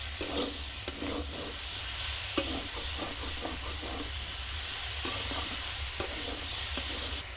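Peas, salt, sugar and turmeric stirred in a frying pan for singara filling, a soft steady sizzle and hiss under periodic spatula scrapes and a few sharp taps on the pan.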